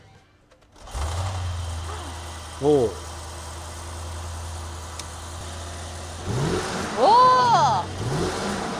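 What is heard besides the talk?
Mercedes-Maybach GLS600 V8 engine starting and revving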